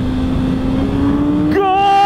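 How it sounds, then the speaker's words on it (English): A 2022 Suzuki Hayabusa motorcycle accelerates on a highway, its engine droning steadily and then rising sharply in pitch near the end as the throttle opens, loud and close under the rider's position. "Throttling is a little more on-off now that we're actually going a little bit."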